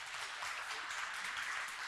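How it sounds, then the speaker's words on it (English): Audience applause for speakers at the close of a corporate panel at the APAC Summit 2025, a steady wash of clapping that holds evenly through the whole stretch without a voice over it. "please give us a big round of applause for the speakers here today."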